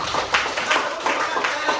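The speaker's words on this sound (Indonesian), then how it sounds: "tepuk tangan dulu buat kita hari ini" A group in an Indonesian music class clapping together in steady, fairly fast rhythm, the claps blending into a continuous patter at close range.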